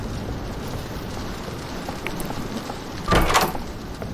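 A door being unlocked and opened in the Roblox horror game Doors, a brief, sharp burst of door noise near the end over a low, steady game ambience, with no talk.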